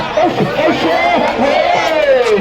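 A crowd of spectators cheering and shouting at a festival street football match, a loud continuous roar of voices with rising calls throughout.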